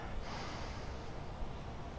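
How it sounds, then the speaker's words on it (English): A deep breath taken during a warm-up stretch comes as a single long, airy inhale, close and fairly soft, filling the whole moment with broad breathy noise. "the last thing we're going to do is just take a couple of deep breaths"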